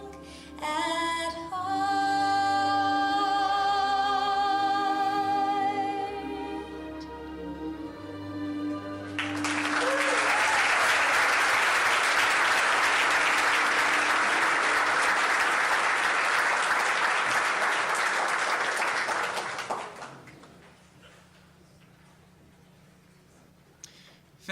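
At a 4-H Hall of Fame ceremony, sustained singing fades out and an audience breaks into loud, steady applause lasting about ten seconds before dying away to near silence.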